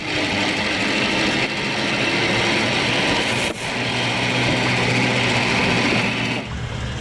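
A turbocharged diesel engine of an armored car roars steadily and loudly while driving, a dense continuous rumble with a brief dip partway through.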